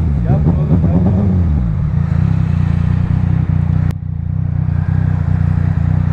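A Yamaha MT-09 SP motorcycle revs hard on a Turkish road, its engine note climbing briefly before settling into a steady loud drone with wind rush. Someone talks over it.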